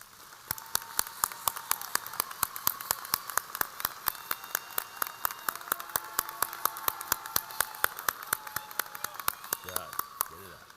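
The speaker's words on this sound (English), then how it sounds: "let's give them another round of applause" Rhythmic clapping at a Fort Dorchester High School graduation ceremony: a steady train of sharp, evenly spaced claps runs for several seconds, with faint sustained tones behind.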